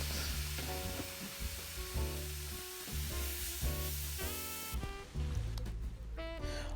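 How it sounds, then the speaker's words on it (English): Cranberries cook briefly in a hot pan, giving a soft, steady sizzle and light crackle beneath background music, with no voices. "the next ingredient that I'm adding is my cranberries, and I just want them to cook slightly"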